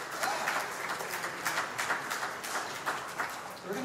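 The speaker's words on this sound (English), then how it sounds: "Big round of applause for yourselves" Steady applause and clapping from an audience at a swing dance event at a community commons, a dense even wash of many hands at moderate distance throughout.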